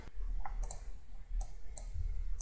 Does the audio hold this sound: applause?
no